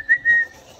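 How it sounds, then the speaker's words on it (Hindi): A person whistles two short, clear high notes in quick succession, the second held slightly longer, close and alone in a quiet room. "मुझे सीटी बजाने की ऐसी शौक पड़ गई है"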